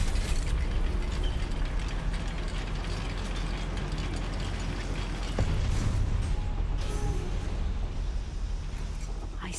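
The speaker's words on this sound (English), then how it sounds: "Look at this lift. Impressive workmanship for so simple a device." A goblin mine lift in the Hogwarts Legacy video game grinds and clanks as it moves, a steady mechanical rattle of gears and ratchets running continuously at moderate level, with a heavier thud partway through.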